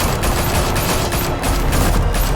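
Dense, continuous gunfire from the Batman: The Telltale Series video game, a steady rattling fusillade of many rapid shots that fills the whole stretch at loud, close range.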